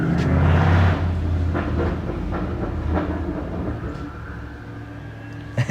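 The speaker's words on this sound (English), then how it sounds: "That's not a G-Wagon. It's a X5 with the V8." BMW X5 with a V8 driving past outside, a rumbling engine that peaks early and fades as it moves away, with light rattling and clatter in the background and no talking.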